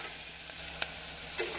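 Green chilli and chopped tomato sizzle softly in a pan for a tomato and potato gravy, with a couple of faint stirring clicks.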